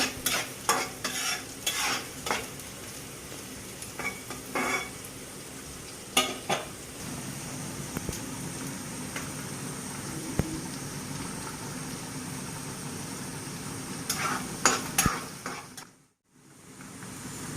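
Onion fries in oil in a pan for a spicy broiler chicken bhuna, a steady low sizzle broken by sharp scraping stirs early and late, then a brief near-silent gap before the sizzle returns.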